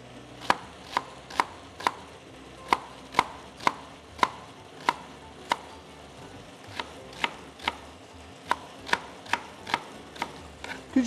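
A knife chops onion into small pieces on a cutting board in an Anatolian kitchen, about two dozen crisp, evenly spaced chops with brief pauses, close and clear with no talking.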